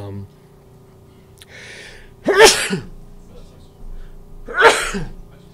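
Two sharp sneezes from a man, a couple of seconds apart, loud and close in a quiet room with a faint hum, a brief breathy sound before the first.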